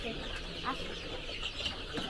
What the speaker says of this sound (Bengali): এগুলিও কি ফাইমি মুরগি